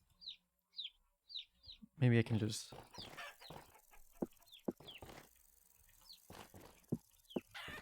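Chickens in the video game Vintage Story give short clucks and chirps, several spaced bursts at the start and more scattered calls later, moderately close, with a person talking over the second half.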